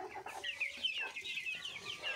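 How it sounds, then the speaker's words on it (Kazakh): Young Adler chickens, hens and a rooster about four to five months old, cluck and chirp continuously in a busy, close flock chorus. "Әне жүр бір әтеш. Міне бір тауық."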